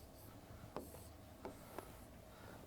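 Chalk or marker writes on a board, faint scratchy strokes with a few sharper taps as letters are formed, close by over a quiet room hum.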